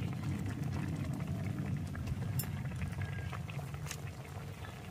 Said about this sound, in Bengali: এবার নারকেল কোড়াটা দিয়ে দিয়েছি, দিয়ে খুব ভালো করে এটাকে ফুটিয়ে নিয়েছি।